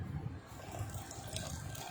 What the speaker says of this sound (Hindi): जिसके साथ हम डालेंगे यहाँ पर आधा कप पानी।